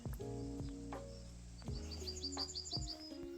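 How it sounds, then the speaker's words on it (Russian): Outdoor bird chirps ring out in quick, high, repeated tweets over a low background hum, moderately close and without any talk. "Птичка какая-то, да?"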